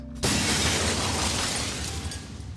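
A sudden loud crash of shattering glass in The Sexy Brutale, followed by a dense spray of tinkling shards that fades slowly over a couple of seconds.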